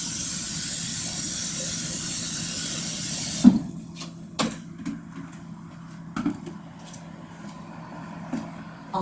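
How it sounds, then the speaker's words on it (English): Cold tap water rushing into a kettle for soup prep, a loud steady hissing stream for a few seconds that stops abruptly, followed by quiet clinks and handling sounds. "Then I'll fill the two kettles with cold water"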